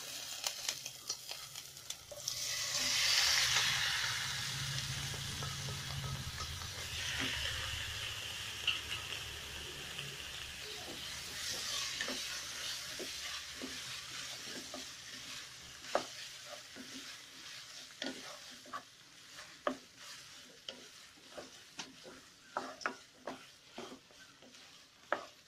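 Fatty pork pieces for a Kerala-style vindaloo sizzle and fry in a pan, with a loud hiss as they go in, then steady frying and repeated sharp scrapes and clicks of stirring, close up and without talking.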